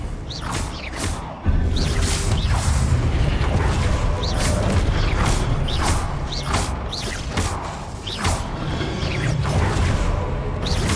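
Confringo blasting spell cast repeatedly in Hogwarts Legacy combat, a series of loud whooshing bursts and impacts at a steady rhythm over constant dense game noise, with no voice.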